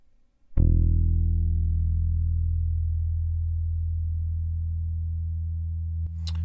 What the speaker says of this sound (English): A lot of sustain on that bass there.